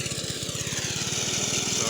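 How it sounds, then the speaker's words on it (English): A locally made lawnmower engine running nearby, a steady, fast, buzzing putter at constant loudness that continues without a break across the short span. "So these are the lawnmowers, locally made."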